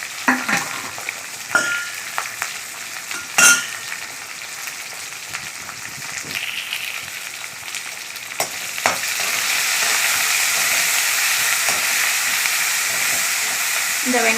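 Onions salted for a gravy sauté in a pan, with a few sharp clatters from stirring early on, then a continuous, fuller sizzle that swells and stays steady through the second half.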